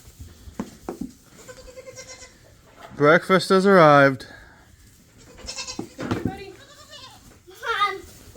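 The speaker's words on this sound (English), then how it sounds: "Don't scare the goats." Goats on a small farm bleat in the morning, with a loud, wavering bleat in the middle and softer calls near the end, mixed in with people talking nearby.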